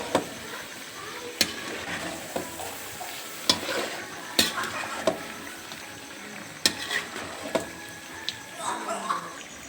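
Ground cumin and chilli powder stir-fried in a pan for a duck meat kosha give a continuous sizzle broken by repeated sharp clacks of a spatula against the pan at uneven intervals, close and fairly loud.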